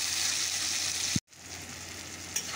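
Onions and tomatoes fry in a pan with a steady, close sizzle that drops out briefly for a moment, then returns with a soft stirring clink.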